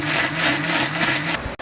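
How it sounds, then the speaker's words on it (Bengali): A blender whirs steadily at high speed, pureeing green chilies, fried onions and yogurt into a paste, then cuts off abruptly with a brief click near the end. "এবার এগুলো সবগুলোকে আমরা একসাথে ভালোভাবে ব্লেন্ড করে নিব।"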